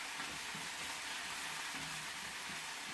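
Vegetables frying in a pan give a steady, soft hissing sizzle that stays even and continuous and goes on without any talk.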